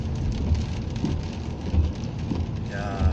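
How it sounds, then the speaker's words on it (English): Steady rain falls on a wet spring day outside a backyard, a dense, even hiss with occasional low thumps, continuous throughout with no talk. "It's a rainy day today here."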